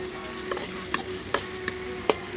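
Tomatoes fry with onions in a pan for mutton curry, a low even sizzle under a faint steady hum, with a few light spoon knocks as the mixture is stirred.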